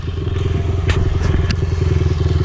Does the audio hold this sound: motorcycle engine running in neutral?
yes